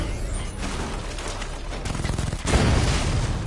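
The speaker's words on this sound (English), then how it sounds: "The chain gun's not powerful enough." Rapid chain gun fire in a shooter video game, a dense rattling fusillade that swells louder and heavier toward the end, with no talking over it.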